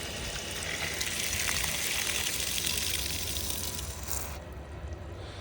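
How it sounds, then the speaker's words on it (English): Water rushes steadily through a newly repaired water line after the valves are opened, a constant broad hiss that stays loud and even before easing slightly near the end. "Alright, water's flowing."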